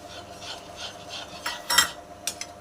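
Bread crumbs being stirred into boiling milk in a pan, heard as soft scraping and rubbing strokes, with a few sharper utensil clinks against the pan near the end.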